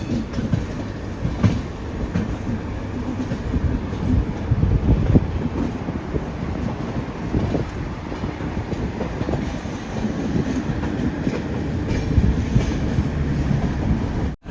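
An express sleeper train from Thoothukkudi rolls into Mysuru, its wagons rumbling and clattering steadily over the rails for a long stretch, loud and close, with wheel clicks and a brief squeal amid wind noise.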